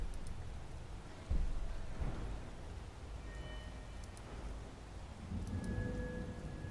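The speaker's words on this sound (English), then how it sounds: "It's still raining." Steady rain in the video game Skyrim, a soft continuous hiss with low rumble underneath and a few faint tones, with no talk.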